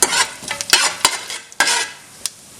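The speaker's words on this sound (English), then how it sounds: "we have to add jeera and pepper seeds and roast it till you get a nice aroma." Cumin and pepper seeds dry-roasting in a hot pan, close and crisp, with several sharp scraping strokes of a spoon and brief sizzling bursts, no talk.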